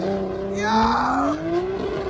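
A car revving hard while brake holding at a crowded street car meet, engine pitch climbing and sustained over a couple of seconds, with crowd cheering and voices around it.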